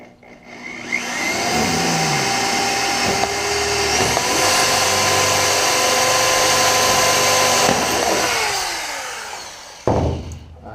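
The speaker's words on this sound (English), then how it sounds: "So I'm gonna drill the hole right here." Power drill boring a hole through the top of a Humvee during a top install, a steady loud whine held for about eight seconds, rising and then falling away, with a short clatter at the end.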